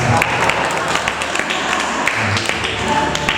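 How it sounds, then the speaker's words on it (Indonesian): Guests at a birthday thanksgiving service applaud the MC, a loud burst of mixed clapping and thuds with a murmuring crowd and some talk underneath. "Tepuk tangan buat saya dong."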